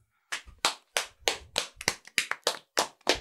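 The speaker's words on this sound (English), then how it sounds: "You get three lousy claps." About ten sharp, distinct hand claps in an uneven rhythm, close and dry, heard alone on a podcast recording with no voices.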